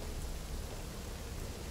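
Rain in the Cyberpunk-style video game world, a steady, broadband hiss of falling rain and drops on surfaces, evenly dense and unbroken for the short stretch, with no voices.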